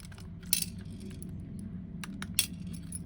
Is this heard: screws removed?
yes